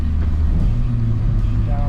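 An SR20-powered Infiniti G20 engine revs out steadily from inside the car, a low continuous rumble holding without stutter across the short stretch.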